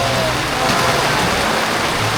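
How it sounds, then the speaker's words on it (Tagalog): Heavy typhoon rain pours down in a loud, constant rush with no pauses. "bumuhos nga na naman ang malakas na ulan"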